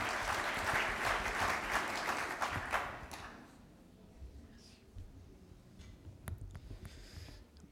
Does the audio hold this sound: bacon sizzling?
no